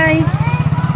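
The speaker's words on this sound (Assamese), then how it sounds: "উঠিছেহি বাইকত, স্কুললৈ যাব ওলালে।" A motorcycle engine thuds in a rapid, regular low pulse close by as it pulls away, with voices over the opening moment.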